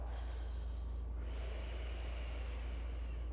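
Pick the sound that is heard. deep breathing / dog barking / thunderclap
deep breathing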